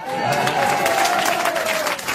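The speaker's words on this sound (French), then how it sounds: "Esteban que le public applaudit." An audience applauds a new contestant named Esteban with dense, steady clapping and some crowd noise, while a tonal voice-like line runs through it.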